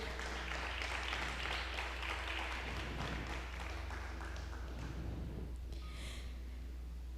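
A church congregation claps in praise during a Spanish-language service, a broad wash of applause over a constant low hum, fairly faint and steady, tapering off near the end.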